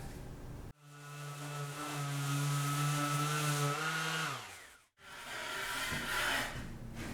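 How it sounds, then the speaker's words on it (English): An orbital sander with an 80 grit pad runs on drywall mud in a window return, a loud steady whine that spins down, stops briefly, then starts up again, with no talking. "I'm going to sand that down a bit. Orbital sander, 80 grit pad."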